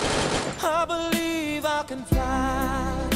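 Gunfire from a shooter video game on the old Alpine map: a few sharp shots cut through steady tonal game sounds, close and fairly loud.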